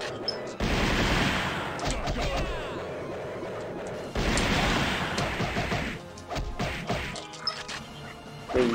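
Shotgun blasts in a Dreamcast video game come as two loud, sustained bursts of crashing, booming gunfire, each lasting several seconds and separated by short gaps, followed by scattered smaller hits and impacts.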